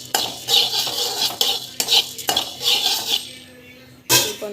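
Spices roasting in a pan are stirred with a metal spoon, making repeated scraping sweeps and clinks against the pan in an uneven rhythm, close and fairly loud, over a faint frying hiss.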